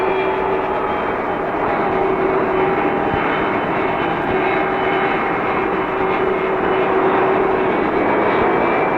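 A North American Aviation F-107 jet rolls toward takeoff with a loud, steady engine roar and a sustained high whine that hold unbroken from start to finish.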